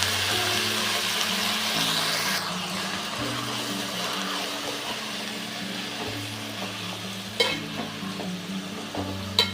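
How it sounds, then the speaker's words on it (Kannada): Fenugreek leaves fry in hot oil with garlic in a pan, giving a continuous sizzle as they are stirred, with a low droning hum underneath and a few scraping clatters near the end. "ಇದು ಎಣ್ಣೆ ಒಳಗೆ ಫ್ರೈ ಆಗ್ಬೇಕು ಸೊಪ್ಪು ಕೂಡ"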